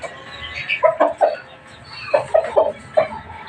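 A pet chicken clucks in a series of short, close, fairly loud calls in two bursts, with soft background noise between them and no talking.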